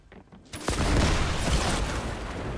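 A loud, close explosion in Fortnite bursts out suddenly and sustains a dense roar with crackling debris, alone without talk.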